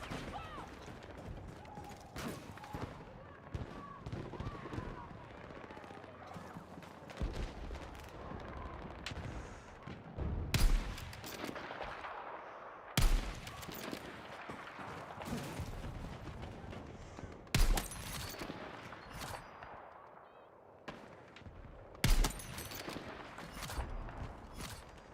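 Gunfire in the Battlefield 6 video game, a busy rumbling battle bed with several sharp, loud bursts of shots and impacts spaced out across the stretch, no talk over it.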